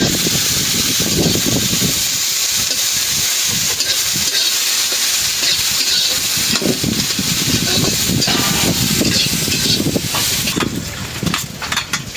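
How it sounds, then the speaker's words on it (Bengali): Dried red chilies fry in a pan over a lowered flame, producing a loud, continuous crackling sizzle with intermittent stirring knocks and scrapes; no one speaks. "চুলার জালটা কমিয়ে মশমশো করে ভেজে দিলাম।"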